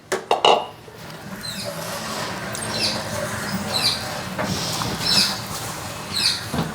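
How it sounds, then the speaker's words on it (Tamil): Thick milk dough for paal rotti being stirred in a pot, opening with a few loud knocks and then repeated soft scraping strokes over a low steady background, close by and without speech. "அளவாக விட்டு கிண்டுவோம்"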